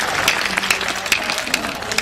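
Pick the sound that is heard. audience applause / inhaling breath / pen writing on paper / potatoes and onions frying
audience applause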